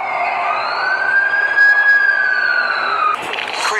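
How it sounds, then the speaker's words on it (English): An ambulance siren in The Amazing Spider-Man 2 video game, Android version, wails loud and close in one long sweeping rise and fall, then shifts abruptly near the end. "That's the ambulance I called."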